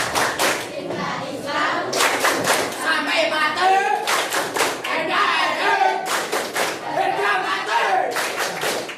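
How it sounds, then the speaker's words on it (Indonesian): A school crowd at a religious-moderation event performs a patterned clapping chant, tight bursts of unison claps in repeated groups alternating with loud group chanting, energetic and close. "Tepuk moderasi."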